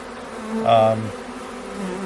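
Honey bees around a swarm and a queen cage give a brief, close buzz that rises and fades within about half a second over a low, steady background hum, with no voices.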